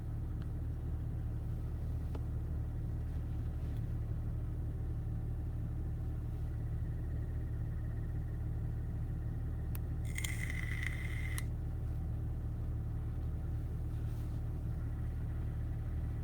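A parked car's engine idling, a low, steady rumble held evenly throughout at modest level, with a brief faint higher tone partway through.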